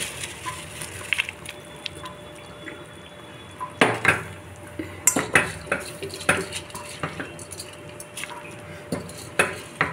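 Soaked basmati rice goes into a pot and gets stirred, with a soft sizzle underneath and scattered clinks and scrapes of a spoon against the metal pot.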